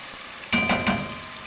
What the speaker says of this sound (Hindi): तो ऑयल गरम हो गया है। अब हम इसमें डाल देते हैं ये मसाला जो हमने मिक्स करके रखा था।